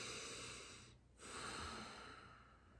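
A slow, deep breath taken during a calm mindful-relaxation exercise, a soft airy exhale that pauses in a brief hush, then continues with another steady breath, close and gentle.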